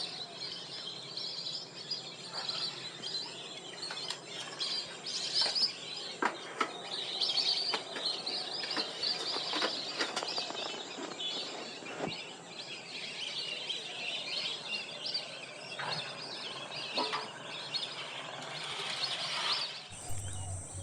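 Migratory birds at Ghatal wetland call continuously, a busy chorus of chirps and tweets with sharp individual calls scattered over a steady background, moderately distant and with no talking.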